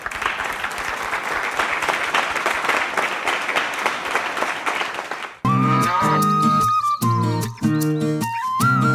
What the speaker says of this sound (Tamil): ஒரு அரங்கம் நிறைந்த கைத்தட்டல் கொடுக்கலாம்